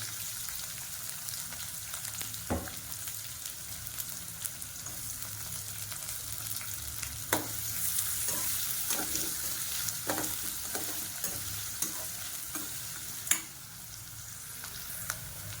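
A medium onion, chopped small, sautés in a pan for beetroot poriyal, a soft continuous sizzle with frequent light clicks and scrapes of stirring, fairly quiet and close, with no talking.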